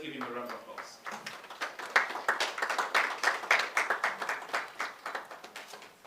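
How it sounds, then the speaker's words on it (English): An audience at a press launch for the Ghana CEO Summit claps for an honoured guest. After a brief voice, the clapping settles into a fairly close, moderately loud, rhythmic round of individual claps. "Please, let's give him a round of applause"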